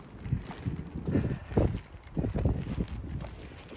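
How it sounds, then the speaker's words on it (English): Gusty wind buffets the microphone in uneven low rumbling bursts on an allotment in February, loud and close, with no one speaking. "It's very, very windy today."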